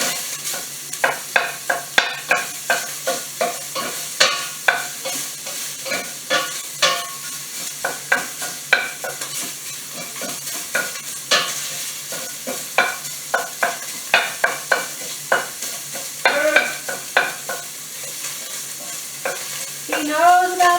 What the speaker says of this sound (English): I'm going to give this sausage a stir.